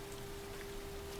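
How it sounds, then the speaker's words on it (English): Steady rain falling in the video game L.A. Noire, a soft, even hiss of drops that holds constant and faint throughout, with no talking over it. "It's raining."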